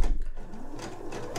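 A sewing machine runs a line of stitching directly over an earlier seam on a folded fabric eye pillow, a close, steady mechanical whir heard alone in a short burst.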